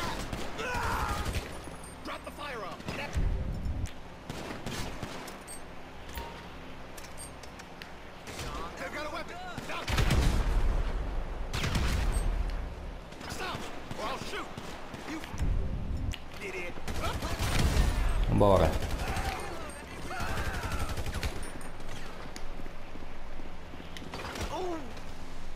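Gunfire in GTA V story mode during a Franklin mission: bursts and scattered shots crackle through the whole stretch over busy game noise, with several louder volleys.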